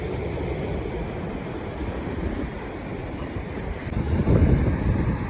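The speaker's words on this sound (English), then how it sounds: "So you can see how these waves are rushing into the lake system" Ocean waves rush into the St Lucia estuary lake system, a steady broadband wash of surf and moving water with wind buffeting the microphone, swelling louder toward the end.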